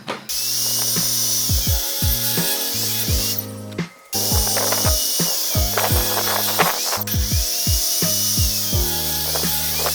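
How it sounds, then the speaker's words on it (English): A table saw rips smaller pieces of plywood into shelves in a workshop, its loud steady motor whine dipping in pitch with each pass through the wood, stopping briefly and then starting again. "I'm gonna cut some of the shelves down using the smaller pieces that I took from the big sheets of plywood, running them through the table saw"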